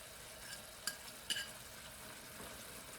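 Penne arrabbiata sauce with fresh basil and parsley is stirred in a pan, faint soft sizzling under a couple of brief utensil scrapes and taps against the cookware.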